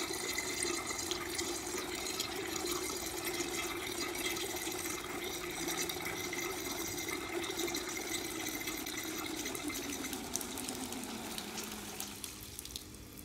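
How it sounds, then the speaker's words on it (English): Liquid fuel gushing steadily from the valve of a Ford fuel pump, a continuous splashing, rushing flow heard close up that tapers slightly toward the end. "The valve is now unstuck and it's just pouring fuel out like I should"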